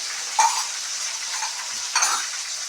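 Broad beans frying in plenty of oil with onions in a pan, a steady bright sizzle with two sharper scrapes of a stirring utensil against the pan, close and alone.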